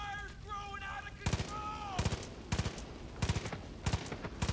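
Automatic weapon bursts crack out in Far Cry 5 on hard mode, four or five short rapid volleys spaced about a second apart, loud and close, with a brief tonal game sound before the first burst.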